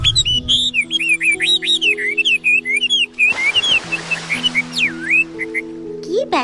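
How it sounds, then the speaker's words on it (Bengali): Cartoon tailorbird singing sweetly, a steady run of bright, warbling whistled notes rising and falling near and clear over a sustained musical backing. "কি ব্যাপার টুনি পাখি, এত সুমধুর কণ্ঠে গান গাইছো যে?"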